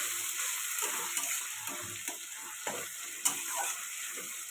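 A ground spice paste of ginger, fennel, cumin and green chili fries in a pan for fish curry with tomato, giving a soft, steady sizzle broken by occasional pops and spatters, fairly quiet and close.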